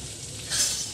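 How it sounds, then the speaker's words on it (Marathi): Boiled chickpeas for chana masala sizzle as they are stirred and sautéed in a pan, a steady soft frying hiss that swells briefly midway, with no talking. "हे पण चांगलं मिनिटभर परतून घ्यायचं"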